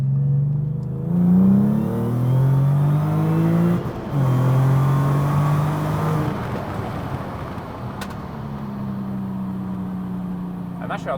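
Car engine revving and accelerating hard from inside the cabin, pitch rising through several gear changes, loud and continuous with a steady drone between pulls.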